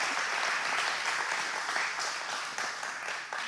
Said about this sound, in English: There was less applause for that one